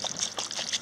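A little water pours into a pot of soil, a soft, close trickle with light splashy bursts that lasts under a second.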